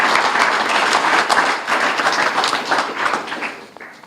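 Applause from a community awards audience at a city council recognition ceremony, a moderately loud patter of clapping that swells and dips unevenly before fading out.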